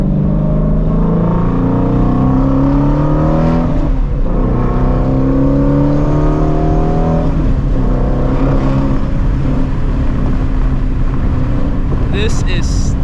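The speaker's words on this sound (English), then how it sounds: "look at the backfires" Ford Shelby GT350 with catless long tube headers and X pipe, the engine revving and dropping while driving, with crackling backfire pops under heavy wind noise and a voice talking.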